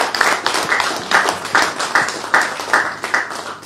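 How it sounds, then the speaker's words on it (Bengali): Audience clapping in applause at an agreement-signing event, steady rhythmic claps with repeated louder swells, fairly close and alone without talk. "আমরা জোরে একটা হাত তালি দিই।"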